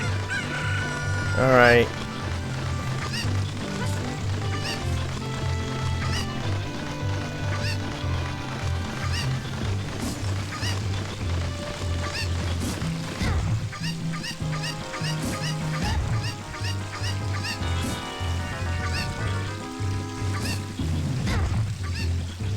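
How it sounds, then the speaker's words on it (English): Chickens cluck and squawk repeatedly in the video game The Legend of Zelda: Ocarina of Time, layered over background music, with a brief spoken word from a player. "Get back here, chicken."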